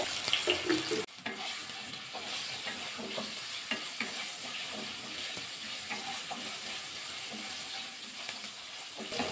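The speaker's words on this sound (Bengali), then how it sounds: "আলুর মধ্যে লবণ দিয়ে দেবো, দিয়ে ভাজা করে নেবো হালকা করে।" Potatoes seasoned with salt fry in mustard oil with five-spice seeds, a steady close sizzle with scraping stirs and a sharp clatter near the start, no talking.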